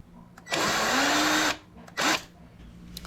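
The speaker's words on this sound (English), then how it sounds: "There are 3 screws we need to remove underneath." Power drill driving out Torx 20 screws from beneath a Whirlpool Duet front-load washer, model WFW9400SU00, propped on a 2x4: one sustained whirring burst of about a second, a pause, then a shorter burst, close and loud.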